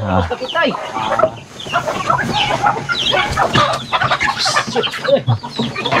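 Several chickens cluck and squawk close by in a busy, overlapping chorus, with voices talking now and then among them.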